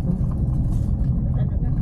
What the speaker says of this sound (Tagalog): Umiiyak yung makina eh.